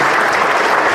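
A loud, dense burst of applause from an audience at the close of a talk, sustained and even throughout with no voices on top.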